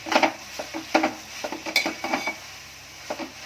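Sun-dried prawns fry with onion in a pan, heard as a series of sharp scraping and clinking stirs against the pan over a faint sizzle, with short pauses between strokes.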